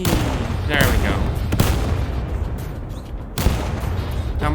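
Artillery shells burst in a tactical shooter video game, a dense run of booming blasts and gunfire cracks rolling over one another with barely a pause, loud and close throughout.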